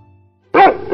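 A single dog gives a short, loud bark after a moment of near silence, a quick close woof with a brief trailing tail.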